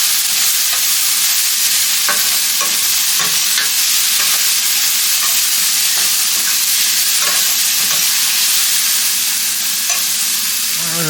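Onion and garlic frying in a pan while being stirred, a loud continuous sizzle close up with soft scraping strokes of the stirring utensil throughout.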